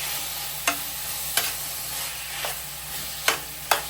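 Beef browns in a pot with a little oil for Jamaican stew, giving a steady, close sizzling hiss broken by five sharp spoon scrapes or clinks at uneven intervals.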